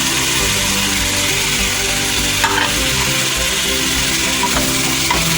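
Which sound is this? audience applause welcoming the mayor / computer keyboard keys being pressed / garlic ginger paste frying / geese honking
garlic ginger paste frying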